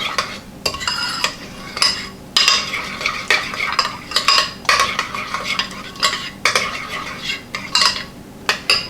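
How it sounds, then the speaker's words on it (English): A spoon stirs celery seed into a Waldorf salad dressing in a bowl, giving repeated scraping and clinking strokes at a brisk, uneven rhythm. The sound is close and fairly loud, with no talk. "I'm going to add about a teaspoon of celery seed and just give that a stir"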